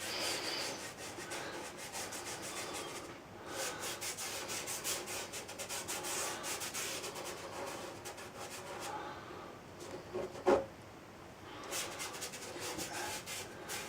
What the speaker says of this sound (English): So I'll just scrape a tiny bit in and blend that to it.